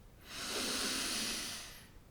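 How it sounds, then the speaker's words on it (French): A person takes one slow, deep breath in through the belly, a soft airy hiss close to the microphone that swells and fades over about a second and a half, alone with no talking. "tu inspires profondément avec le ventre et non pas les pectoraux"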